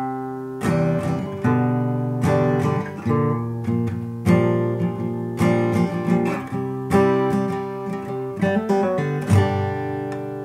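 Guitar plays a passage of the intro to a song, a run of plucked chords and quick picked notes with regular attacks, close and clear with no voice.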